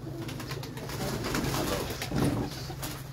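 Pigeons in a breeder's loft coo continuously, a dense, low rolling murmur of overlapping calls that swells slightly near the end, close and steady.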